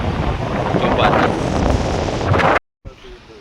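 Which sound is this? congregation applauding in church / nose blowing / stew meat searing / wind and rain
wind and rain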